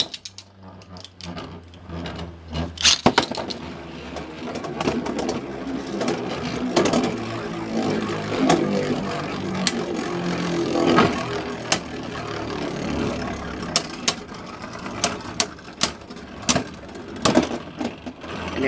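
Two Beyblade spinning tops, Omni Odex Triple Extreme and Uber Unicrest Spread Needle, whir and scrape in a stadium, with sharp clacks and knocks as they collide repeatedly, fairly close.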